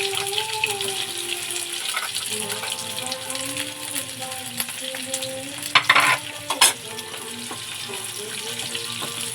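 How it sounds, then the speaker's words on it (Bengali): Onions frying in a pan while being stirred, a continuous sizzle with scraping stir strokes and a couple of louder clatters near the middle, a faint hum underneath. "প্রথমে পেঁয়াজটাকে ভেজে নেব।"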